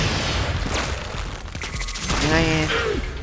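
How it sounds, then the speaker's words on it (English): A Dread or Rakta Cernos weapon fires in a video game, giving rapid, close shots mixed with mechanical clicks and ratcheting under a talking voice. "Let's see how many shots does it take to put down this heavy gun"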